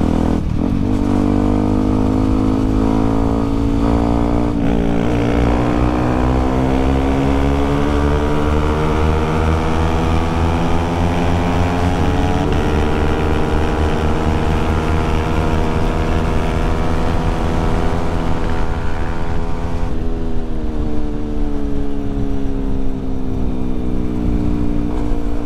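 Motorcycles ride fast along a road at night, a loud, steady engine drone with rising and falling pitch as the throttle changes, heavy wind rush throughout and no talking.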